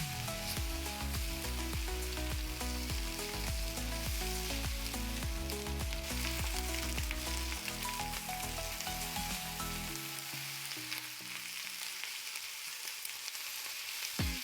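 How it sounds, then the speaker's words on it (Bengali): A ginger, garlic, onion and chili paste fries with onions in a pan: a loud, dense sizzle with rhythmic spatula scrapes and knocks that thin out toward the end, leaving a quieter hiss. "ভালো করে কষিয়ে নিতে হবে যাতে আদা রসুনের গন্ধটা চলে যায়।"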